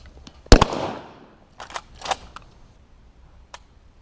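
A Ranger lever action shotgun fires at a concrete block outdoors, one sharp loud blast followed by a decaying rumble, then a few softer clicks and clatters from the action.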